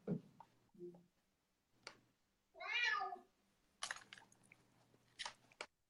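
A pet cat gives a single drawn-out meow near the middle, close and fairly clear, with scattered soft clicks and light tapping sounds around it in an otherwise quiet room.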